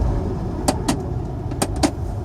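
A Smart City Pulse car moves along in first gear with a low, steady engine and road rumble, punctuated by several short sharp clicks or ticks from inside the cabin; no one speaks.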